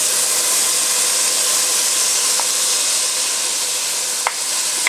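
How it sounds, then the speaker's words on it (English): Sofrito mixture hitting a hot pot of browned ground meat for Bolognese sauce, giving a steady close sizzle and hiss over medium heat, with a couple of faint utensil clicks. "To the pot, we're going to add our sofrito mixture."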